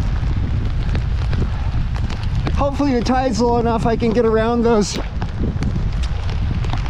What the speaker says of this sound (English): It's cold, it's about 45 degrees, pouring down rain, quite windy.